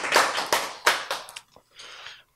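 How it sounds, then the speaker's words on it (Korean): An audience at a church lecture claps in a few quick, uneven bursts of handclaps, then a short pause and a softer final patter. "박수!"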